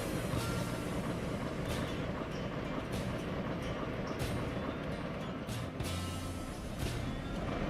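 A diesel locomotive rolls along in the railway game Railroader with a continuous rumbling, clattering roll of train cars, close and steady throughout, with no talk.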